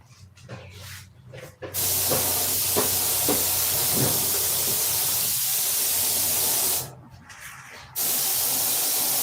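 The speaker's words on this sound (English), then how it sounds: "looks like John's gonna shoot a coat on it for me to see" A spray gun lays a clear coat of paint on an aircraft canopy in a loud, steady hiss that starts after a short pause, drops out briefly near the end and then resumes.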